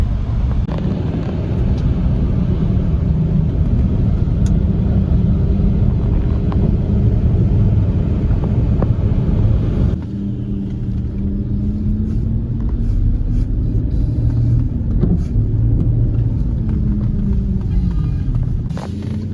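A car driving on the roads about 25 minutes outside central Kyiv, Ukraine, with a steady low engine and road rumble heard from inside the cabin for the whole stretch, loud and unbroken.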